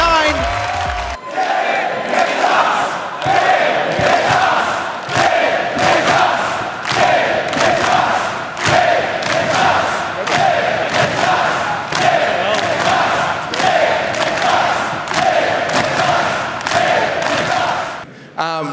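A packed esports arena crowd at a Rocket League match roars and chants continuously in a steady rhythmic swell, loud and sustained, with a commentator's voice faintly mixed in.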